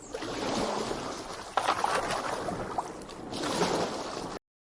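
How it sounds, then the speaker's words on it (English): Kayak paddling on water, with steady splashing and rippling strokes close by, rising to a louder swell partway through and continuing evenly until it cuts off. "Kayak."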